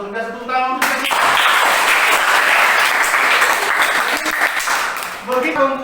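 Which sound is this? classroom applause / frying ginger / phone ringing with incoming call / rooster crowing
classroom applause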